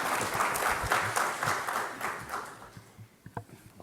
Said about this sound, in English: I would like to give him an applause